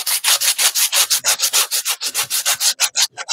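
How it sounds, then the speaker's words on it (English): A small sander works over wooden craft pieces with a fast, even rasping rhythm of short strokes, loud and close, running steadily with no voices. "now what I'm going to do is I'm going to use my little sander. We're just going to sand these."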